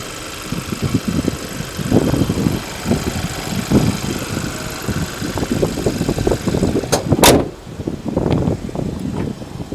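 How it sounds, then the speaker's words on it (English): A Kia Optima's 2-liter direct-injected turbo four-cylinder engine idles steadily nearby, a low uneven chugging pulse with a brief sharp rev or click near the end. "Hyundai's 2-liter direct injected turbo 4-cylinder. This engine is used also in the Sonata and the Genesis coupe."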